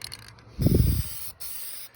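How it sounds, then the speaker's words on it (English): A single short burst of spray paint hisses onto a car, close and fairly loud, stopping after about half a second amid quiet background noise. "this is the proper way to spray paint a car"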